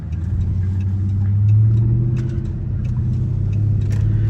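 Dodge SRT8 Charger on the road: a loud, steady engine drone and tire rumble heard from inside, swelling slightly as it pulls, with small rattles and ticks over the continuous hum.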